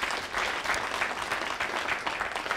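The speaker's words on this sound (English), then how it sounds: "That's only half the applause I was expecting" Audience applause following a magic trick at a competition act, a lively burst of many hands clapping with slight swells, fairly close and continuous.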